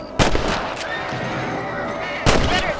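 Two sharp, loud rifle cracks a couple of seconds apart ring out as rabbits are hunted in the video game Red Dead Redemption, with a voice speaking and outdoor game ambience filling the gap between the shots.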